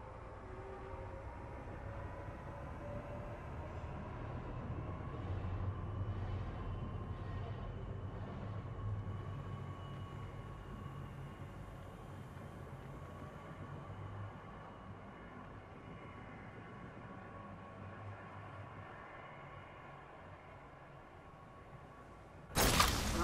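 Steady rumbling rush of a moving train in the Apex Legends winter express mode, a continuous low rolling drone with faint rhythmic clatter throughout, ending in a sudden sharp burst.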